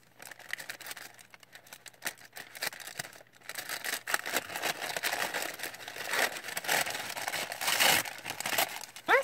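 Paper between kraft and tissue paper crinkles and rustles close up in bursts as a gift is unwrapped, with sharper tearing crackles growing louder toward the end.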